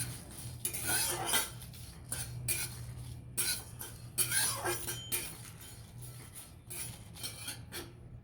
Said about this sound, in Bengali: শুকনো লঙ্কা পাঁচ ফোড়ন আর মৌরি এগুলোকে হালকা করে ভেজে নেব